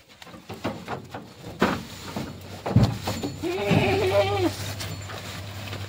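Kathiawadi goats of Bhavnagar quality bleat once, clearly and fairly close, in the middle of the stretch, over low rumbling background noise.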